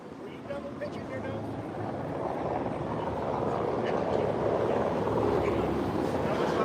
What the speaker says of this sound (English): Helicopters over there